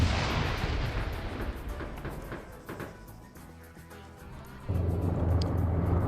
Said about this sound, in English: SPG-9 shot lands far